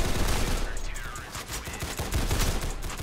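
Rapid automatic M4 rifle fire in the video game Counter Blox, a dense, continuous burst of shots running the full length, loud and close.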